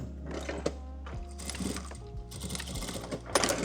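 A sewing machine top-stitches a fabric ruffle in short, stop-start runs of rapid mechanical whirring and clicking, close and moderately quiet, with brief pauses between bursts.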